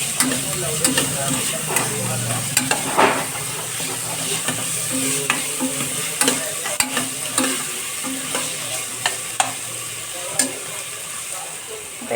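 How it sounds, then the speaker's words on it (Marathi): Fresh green peas sautéed in a pan for pea rice make a steady moderate sizzle, punctuated by repeated light scraping and tapping strokes of a spoon stirring them, with no voices. "एक वाटी एवढे आपण फ्रेश वटाने घेतले परतून घ्यायचे"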